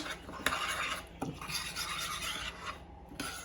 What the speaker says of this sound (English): And give it a good mix around.